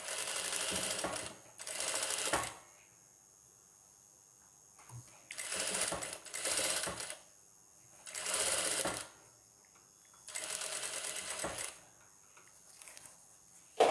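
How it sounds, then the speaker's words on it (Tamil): Electric sewing machine stitching a designer blouse along a curved line, running in several short bursts of rapid whirring separated by quiet pauses, close and clear. "இந்த வளைவுக்கு ஏற்ற மாதிரி இப்போ பாருங்கள் நல்ல அழகாக அது வளைஞ்சி வந்துடும். கரெக்டாக நம்ம வரைஞ்சிருக்கோம் இல்லையா, அந்த இடத்துல வச்சே தைங்க."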